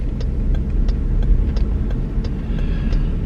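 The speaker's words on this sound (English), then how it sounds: "Here comes another plow truck." A snow plow truck passes on a road during an oncoming snowstorm, a steady broad engine rumble with a faint rhythmic clanking on top, loud and continuous throughout.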